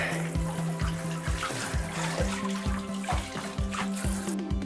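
Cold tap water runs steadily over a plastic Commodore Amiga A600 computer case being rinsed, a continuous splashing wash with a low rhythmic pulsing throughout, close and fairly loud.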